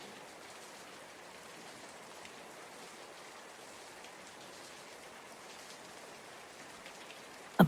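Steady rain falls in a continuous, even hiss on a surface, with no talking, constant and moderately soft throughout before a brief louder burst at the very end.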